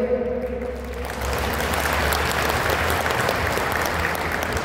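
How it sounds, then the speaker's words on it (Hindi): Loud, dense applause from a large audience at a poetry recital in a festival pavilion, swelling after a brief voice and continuing steadily and close for several seconds. "तालियां बड़ी करिए।"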